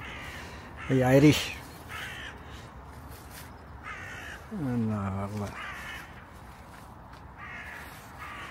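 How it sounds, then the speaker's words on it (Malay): Crows caw outdoors near a river in Preston, England: two loud, harsh calls stand out over a quiet background, with fainter caws in between. A person speaks briefly at times. "Gagak macam biasalah, gagak kat sini cakap orang putih"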